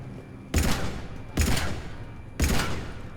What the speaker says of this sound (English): Okay, I guess I have to do it with my gun.